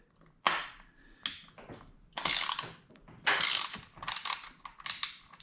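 A ratchet wrench loosens a 6 mm bolt on the fork clamp of a Yamaha R1 sportbike, giving close, loud bursts of rapid clicking separated by short pauses.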